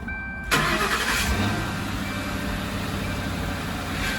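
A Lincoln Town Car, Grand Marquis or Crown Victoria engine cranks and catches after the quiet, then settles into a steady close idle.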